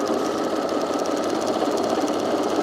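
A serger overlocks fabric pieces for a dress, its motor running in a steady, loud, rapid hum with a fast stitching rattle, close and uninterrupted, with no voices.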